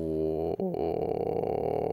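A male singer sustains a low vocal fry subharmonic tone, gravelly and buzzing, with a brief break partway before the growl continues steadily.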